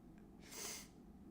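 A single short, sharp nasal sniff from someone with a cold, close and faint, rising and fading within about half a second against quiet background hiss.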